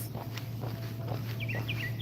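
A few quick, high bird chirps sound faintly near the end, over a steady low hum and soft background noise.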